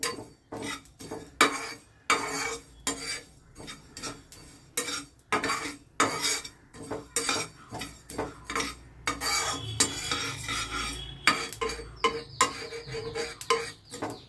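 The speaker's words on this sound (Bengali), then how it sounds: "আমি দিয়ে দিচ্ছি গোটা তিল, কারণ তিলটা খুব তাড়াতাড়ি ভাজা হয়ে যায়।" Whole sesame seeds and spices are stirred in a dry pan for pickle masala, giving repeated rhythmic scraping and clinking spatula strokes against the metal over a faint sizzle.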